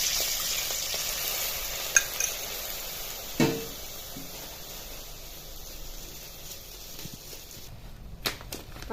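Milk sizzling in hot ghee in a pan, a continuous close frying hiss with a few soft clicks and stirring knocks scattered through it, moderately loud and steady, no voices.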